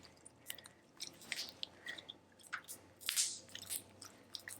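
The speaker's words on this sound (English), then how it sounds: "Once you do a slime bubble and you don't really make it, you can hear all these popping bubbles." Unicorn tear slime pops and crackles in quick, soft, irregular bursts as small bubbles burst close to the mic, with no talking.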